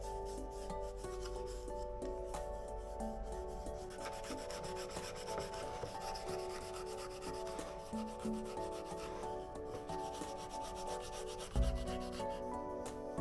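Steady rubbing and scraping of sandpaper on a turned wooden herb stripper, continuous and close, with a brief thump near the end.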